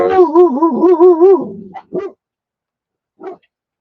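Dogs behind a door give a close, loud run of barks and growly yelps, then a few single barks with short silences between them.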